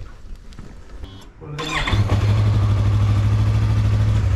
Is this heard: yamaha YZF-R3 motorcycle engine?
yes